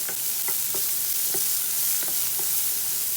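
Chopped onion sautéing in a pan for a drumstick and potato curry: a loud, constant hiss of frying close up, with a steady series of soft stirring strokes and taps spaced about half a second apart, no voices.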